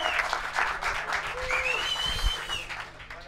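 A rap battle audience applauds in a dense, sustained burst of clapping. A few whistles and shouts ride over it, and the clapping tapers slightly toward the end.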